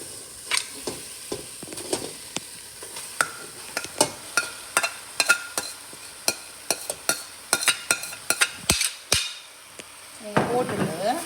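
Chicken pieces sizzling in a pan of curry with tomato while a metal spoon stirs and knocks sharply against the pan in an uneven series of clacks, close and clear, with frying hiss underneath.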